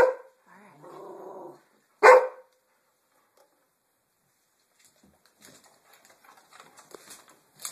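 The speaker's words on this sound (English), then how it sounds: "Alright, good dogs." A single sharp dog bark rings out after a short low vocal sound, followed by quiet with faint scattered clicks and rustles.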